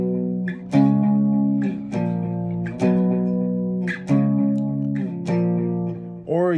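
Clean electric guitar playing a song, with no effects: a series of sustained, ringing chords struck one after another in a steady rhythm, close and clear.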